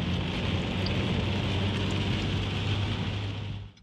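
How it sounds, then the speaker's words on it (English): Heavy rain drums steadily on a car during a drive near Ketchum, Idaho, a dense hiss over a low engine rumble that fades away abruptly near the end. "This rain is crazy."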